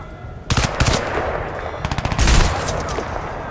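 Enemy gunfire in the shooter game Crysis 2 Remastered comes in loud, close bursts of rapid automatic shots, with a second heavy volley following after a short pause.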